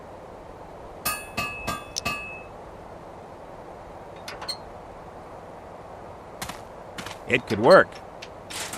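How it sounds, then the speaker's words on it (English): Metallic clanks and clicks from a spring trap being compressed and locked down with a horseshoe in The Book of Unwritten Tales: The Critter Chronicles, in short bursts early on and again later, with a brief spoken line. "I compressed the spring and locked down the contraption with the horseshoe."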